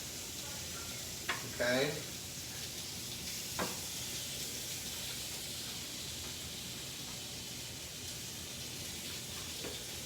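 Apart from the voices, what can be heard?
corned beef frying in a skillet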